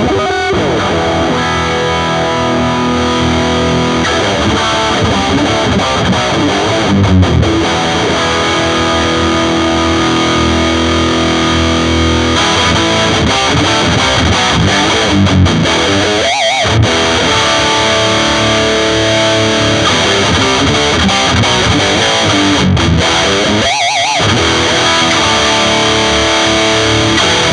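Electric guitar with heavy distortion played through a Penny Dollar PA-65 combo amplifier, a loud, dense, sustained overdriven tone with chords and riffs running continuously, broken by two brief pauses, and no talking.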